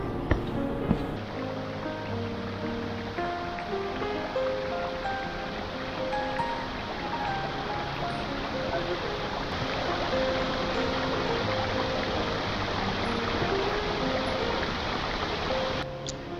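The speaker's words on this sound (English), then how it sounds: "while walking, you can hear the sound of river flowing all the time" A river rushes through a gorge along a trail in the Himalayas on a rainy autumn day, producing a steady, broad roar of flowing water that continues unbroken throughout with nothing else standing out.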